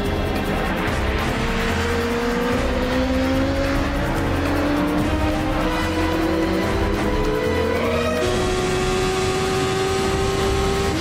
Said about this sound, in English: I'm actually the bad guy that's chasing Ilsa on the motorcycles.